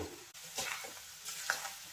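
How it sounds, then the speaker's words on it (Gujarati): Spiced potatoes with Kashmiri red chilli powder are stirred in a frying pan: soft scraping strokes over a quiet sizzle, a few brief spatula clicks, fairly faint and close, with no talking. "હવે મસાલાને આપણે મિક્સ કરી લઈએ."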